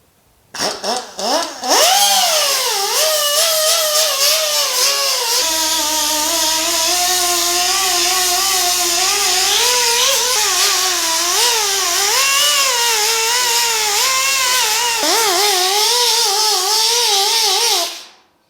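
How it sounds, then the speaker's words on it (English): Air die grinder stripping paint from a Pontiac GTO car door, starting with a few short bursts, then a loud continuous high whine with pitch dipping and rising under load before it cuts off. "So I'm going to grab the die grinder."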